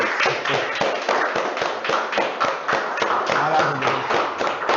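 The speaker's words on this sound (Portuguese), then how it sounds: "Vamos aplaudir." Congregation clapping in rhythm during a Portuguese-language worship service, loud, close, evenly spaced claps repeating steadily throughout.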